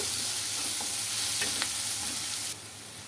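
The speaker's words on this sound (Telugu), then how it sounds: "ఆనియన్స్ అయితే బాగా మగ్గాలండి" Chopped onions sautéing in a pan on the stove, a continuous soft sizzle with a few scraping stirs of a spoon against the pan; no voices, and the hiss drops slightly near the end.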